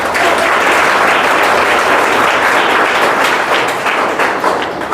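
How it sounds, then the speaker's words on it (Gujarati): An audience at a gathering claps in welcome for arriving guests, a loud, dense applause that continues steadily throughout. "તો આપણે સૌ તેમનું તાળીઓથી સ્વાગત કરીએ"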